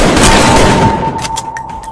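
Sniper fire in a video game: a loud burst of gunfire with a ringing tone that decays quickly, followed by a few sharp metallic clicks.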